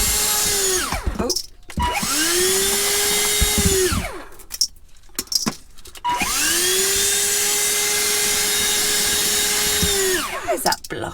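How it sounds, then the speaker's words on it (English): A household hoover sucks up oily debris, its motor whining up and down in repeated long runs with short stops between, loud and near, with brief speech in the gaps. "This is going to ruin my hoover."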